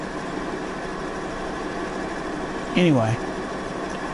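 A tractor engine in Farming Simulator 19 runs at a steady low drone throughout, with a voice speaking briefly over it.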